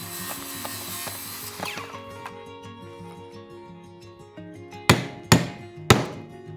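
Hand tools work the corners of a 15 mm square wooden plug for a handmade woodshed, with rasping, scraping strokes followed by three loud, sharp wooden knocks in quick succession.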